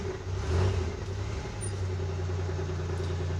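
A 1984 Chevrolet S10 pickup engine idles with a steady low rumble and a slightly raspy, uneven exhaust note from an exhaust leak and rattling muffler, close and continuous throughout.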